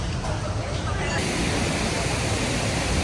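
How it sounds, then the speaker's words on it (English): A giant indoor waterfall in the rotunda of Singapore's Changi Airport roars as a dense, constant wash of falling water, broad and even, with faint crowd murmur in the hall. "There is a literal giant waterfall in the midst of that"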